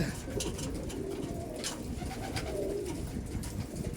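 Young pigeons cooing close by, soft throaty warbling calls repeating over a low background hum, with a few faint rustles.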